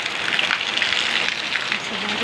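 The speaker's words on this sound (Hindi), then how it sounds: "देखिए दोस्तों कैसे बारिश हो रही है।" Steady rain patters and hisses on a surface nearby, a dense continuous wash of droplets with no breaks.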